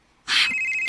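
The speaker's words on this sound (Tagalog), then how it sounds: "Kisa may nanawag, uy." A telephone starts ringing after a moment of quiet, one loud, bright electronic ring tone that begins abruptly, close and alone.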